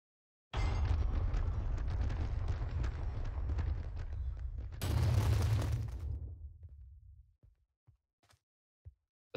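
An explosion-like sound effect played back in a game toolbox: a loud, dense rumbling burst lasting several seconds, swelling again midway with a brighter crackling layer, then fading into a few faint pops.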